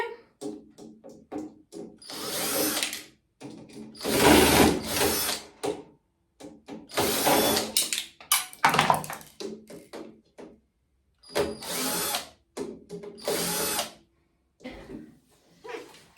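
A power drill unscrewing the feet of a bathroom radiator, heard in repeated short whirring bursts separated by pauses and small clicks of handling, fairly close and loud.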